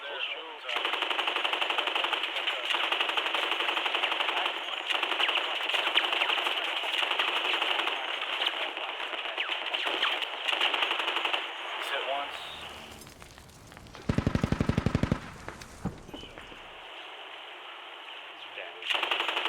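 A .50 cal machine gun in the video game Squad fires long sustained bursts, the first about twelve seconds long, then a short louder close burst and another run. Excited voices talk over the gunfire.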